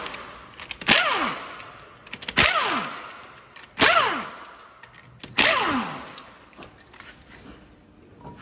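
Wheel nuts on a 2007-2014 Honda CR-V being spun off with a 19mm socket, four bursts of a whirring tool that rises and falls in pitch, each separated by brief pauses, close and fairly loud.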